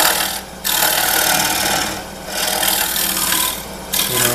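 Carbide tool hollowing an ambrosia maple form on a lathe, a loud continuous scraping rasp that breaks off into short pauses between passes.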